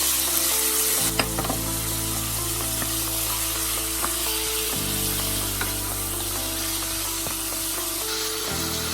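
Meat and tomatoes sizzle and fry steadily in a hot pan for pork eggplant binagoongan, with a constant hiss and a few sharp clicks and stirring knocks.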